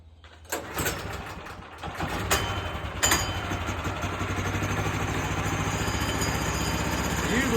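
A sawmill's engine starts up and then runs steadily at idle, a continuous mid-pitched drone with a few knocks near the start, heard close and fairly loud without talk.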